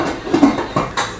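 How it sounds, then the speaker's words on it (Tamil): Metal clinks and knocks sound up close as a pressure cooker lid is closed over boiling pongal and its whistle weight is set on top, a few sharp taps and a brief scrape. "குக்கர் மூடி போட்டு விசில் போட்டாச்சு."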